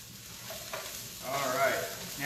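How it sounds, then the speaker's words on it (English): Lemon and garlic stirred in a hot pan for shrimp scampi, a soft continuous sizzle with a faint scrape of the utensil across the pan, swelling slightly louder toward the end. "So we're just going to stir that around in there again"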